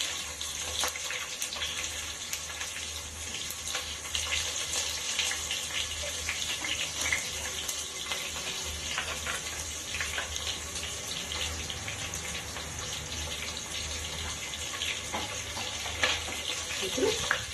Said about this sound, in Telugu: ఇందులోకి కట్ చేసి పెట్టుకున్న ఉల్లిపాయలు వేసుకున్నాము.